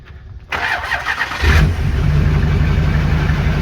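A Duramax diesel truck engine, exhaust not yet fitted, cranks and catches, then settles into a loud, steady rumbling idle close by.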